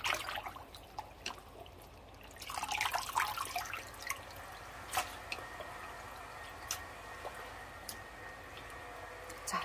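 Boiled spinach is rinsed by hand in cold water, giving steady close splashing and dripping with soft squishes and trickles that run throughout.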